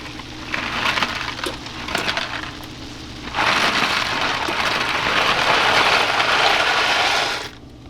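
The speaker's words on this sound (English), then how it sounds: "So I can start putting in the pasta." Dry pasta clatters and rattles as it is poured into a pot of boiling water, first in short bursts, then a longer steady rush of crackling that stops abruptly.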